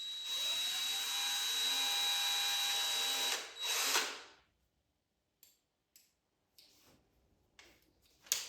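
A power drill whines loudly and steadily for several seconds while boring holes for wall plugs in an old stone house, then cuts off, followed by a few short clicks and knocks.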